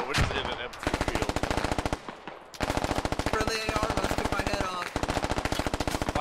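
Sustained machine gun fire in the tactical shooter game Squad, rapid bursts loud and close with brief pauses between volleys, a voice faintly mixed underneath.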